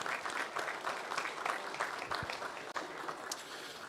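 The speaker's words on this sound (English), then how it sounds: "should we just give everybody who's taken part in the colour breed show a round of applause" Audience applause at a colour breed cattle show at the Virginia showgrounds, a steady wash of many hands clapping from a crowd, continuous and moderately loud with no talk over it.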